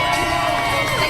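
A crowd cheering at a tamale eating championship, a loud, dense wash of shouts and whoops from many people, kept up without a break.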